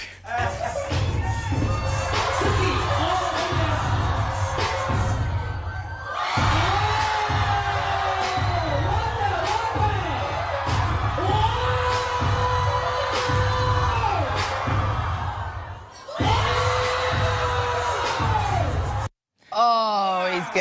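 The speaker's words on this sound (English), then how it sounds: "Listen to the guy screaming in the background." At a live TV show with breakdancing, a man whoops and yells in the background over a lively crowd, with voices rising and falling across the stretch.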